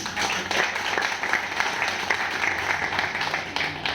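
An audience at a business plan seminar claps loudly and continuously, a dense wash of applause filling the room for the whole stretch with no clear voices on top.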